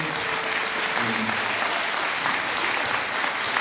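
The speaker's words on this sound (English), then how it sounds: "I'd like to give a round of applause to all of these students." Steady, loud applause from a concert audience for student musicians at a school band performance, a thick continuous clatter of many hands with faint murmuring voices mixed beneath.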